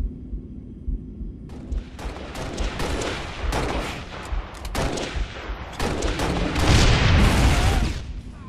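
A bomb detonates in Halo Reach amid a dense, chaotic barrage of gunfire and booming blasts, loud and near, the roar swelling toward the end.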